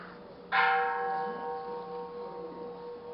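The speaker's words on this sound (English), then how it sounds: "This was the bell that sounded to call everyone to worship." A Buddhist temple bell rings once to call worshippers, a single clear strike followed by a long ringing decay that fades slowly, heard alone.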